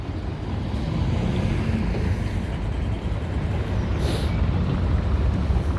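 Busy street traffic at the Odengatan and Dalagatan crossing in Stockholm, a continuous low rumble of passing vehicles with wind buffeting the microphone and a brief brake hiss partway through.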